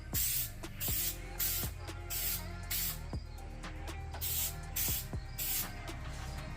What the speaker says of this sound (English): you want to just do a nice light coat, and you want to just do in a horizontal pattern with slight overlaps of your last stroke